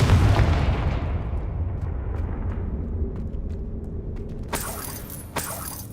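A Confringo blasting spell explodes in Hogwarts Legacy, a loud booming blast that decays over several seconds, followed by two sharp bright bursts near the end.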